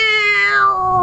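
A human voice imitates a cat's dreadful, ear-splitting yowl with one loud, drawn-out, strained meow that slides downward in pitch over about a second.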